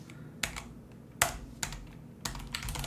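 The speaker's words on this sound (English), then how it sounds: "oh, I love my new keyboard. Is so quiet." Soft, sparse key clicks from a quiet computer keyboard, a handful of muted taps at an uneven pace over low background hum.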